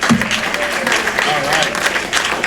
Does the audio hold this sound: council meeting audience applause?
yes